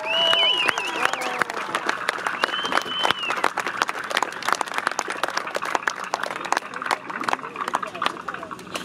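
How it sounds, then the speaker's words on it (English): Outdoor crowd applause for uniformed volunteers at a military museum reenactment program, a steady patter of many hands clapping at moderate distance, with a voice speaking over it near the start. "How about giving them a round of applause?"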